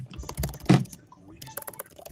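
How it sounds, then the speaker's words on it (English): Rapid clattering keystrokes on a computer keyboard, a dense burst of close clicks with a louder clack partway through and brief pauses between runs. "I've always had a super fast typing speed."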